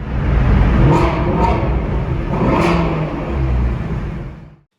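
A Shelby Mustang GT350 is driven around Las Vegas, its engine revving loudly and continuously from inside the car with a rolling, surging roar that fades out at the end.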